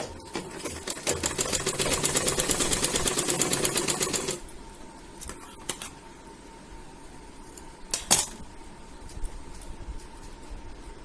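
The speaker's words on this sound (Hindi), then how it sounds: "यहाँ पे हम इसको तिरछा सिलाई कर लेते हैं इस तरह से।" A sewing machine stitches a diagonal seam on a blouse neck strip, a fast even run of needle clatter for about four seconds, then stopping, followed by a few soft fabric handling clicks and thumps close by.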